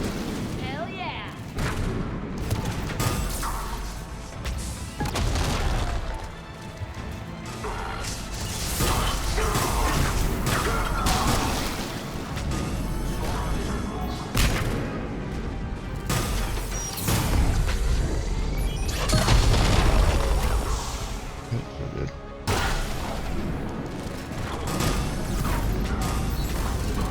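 Grenade explosions and gunfire in the Mass Effect video game, loud booms and crashing blasts mixed with bursts of shots and whooshes, continuing throughout a busy combat scene with voices shouting over it.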